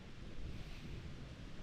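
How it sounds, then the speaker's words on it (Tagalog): Steady wind on a terrace rushes and buffets against the microphone, a soft continuous roar with no voices. "Medyo umina yung hangin"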